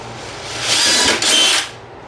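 A power drill bores a hole in a plastic growing tub, a close whirring burst that rises, briefly dips, then winds down in about a second of cutting.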